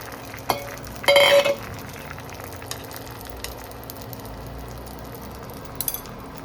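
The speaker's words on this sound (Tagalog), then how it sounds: "Ilalagay na po natin ang ating ipiprito." Food goes into hot oil in a pan for a home-cooked Filipino lunch, with a short louder sizzling burst as it lands, then a faint, steady frying hiss and a few light utensil taps.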